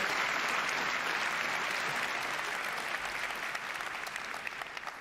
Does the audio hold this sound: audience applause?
yes